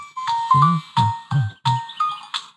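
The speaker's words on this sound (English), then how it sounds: "There's birds chirping." Bright high chirps repeat in quick bursts alongside low, rhythmic thumping pulses, about six cycles in a couple of seconds, close and clear.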